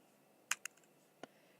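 A few sharp keyboard key presses in Microsoft Word: two quick clicks close together, then a lone tap after a short pause, fairly faint against a quiet room.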